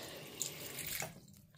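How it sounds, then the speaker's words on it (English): Water runs from a tap into a container, a steady close rushing hiss that shifts in tone as it fills and tapers off at the end. "Let's turn the water on and fill it up."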